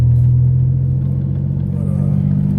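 Throaty exhaust rumble from a Mitsubishi 3000GT SOHC, a loud steady low drone close by, running continuously without speech.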